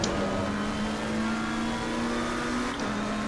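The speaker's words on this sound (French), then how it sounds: "ça fait un bon petit bruit son Audi" An Audi race car engine drones steadily, heard from close by during a race, holding a fairly even mid-pitched tone with only a small dip near the end and no talking.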